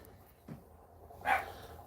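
A dog gives two brief barks or yips, one faint and a louder one about a second later, against a quiet room background.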